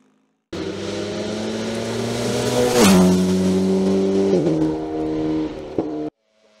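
Alpine A110 GT4 race car on a hill climb course, its engine roaring loud and close as it accelerates hard through the gears, with a sharp upshift midway and another later before the sound cuts off abruptly.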